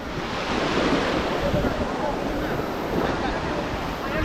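Continuous roar of sea waves washing on Bakkhali sea beach in West Bengal, mixed with gusty wind rumbling against the microphone.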